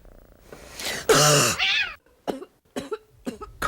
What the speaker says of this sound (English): Cough waking you up in the middle of the night?